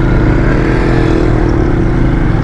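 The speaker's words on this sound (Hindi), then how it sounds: "अब ये चूं चूं की आवाज़ें आ रही हैं, मेरी मोटरसाइकिल की आवाज़ें आना शुरू हो गई हैं।" An old motorcycle riding along a road, a loud steady engine drone with constant rumble; the squeaking noises are not distinct.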